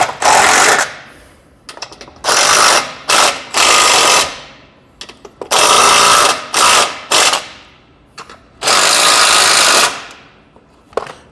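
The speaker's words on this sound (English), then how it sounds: "my impact, tighten those down tight." An impact wrench drives bolts tight on a trailer tongue jack in loud, close bursts, roughly ten rattling blasts of varying length separated by short quiet gaps.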